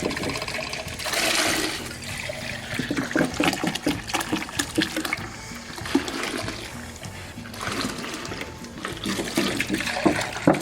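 Tap water pours and splashes steadily into a gallon container for an ultrasonic cleaner, with gurgling surges that rise and fall across the whole stretch.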